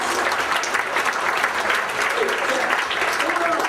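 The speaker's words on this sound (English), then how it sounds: "Give her a big round of applause." A crowd applauds a young woman, a loud, continuous patter of many hands clapping at close range, with a voice cutting in faintly over it.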